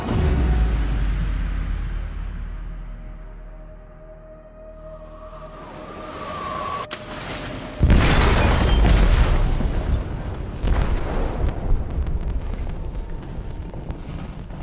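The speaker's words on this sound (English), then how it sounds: "They detonated an explosive in the hold." An explosive detonates in a ship's hold in Detroit: Become Human: a low droning hum builds, then a sharp, massive boom hits, followed by a long, loud roaring rumble with crackling debris.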